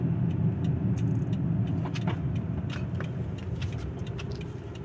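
A 2011 Subaru Outback with a troubled CVT transmission cruises along a slow back road. It makes a steady low rumble of engine and tire noise from inside the cabin, with light rattles and jingles over it.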